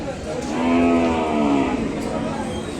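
A calf moos loudly and close at a Sunday cattle market in Kodad, a single long drawn-out call with ambient market noise behind it.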